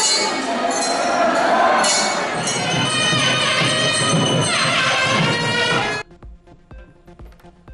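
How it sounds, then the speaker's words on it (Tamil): Devotees at a temple elephant procession shout a loud, dense chorus of devotional chants that fills the first six seconds, then drops off abruptly to quieter scattered sounds and rhythmic knocks. "அரோகரா முழக்கத்துடன் வழிபட்ட பக்தர்கள்"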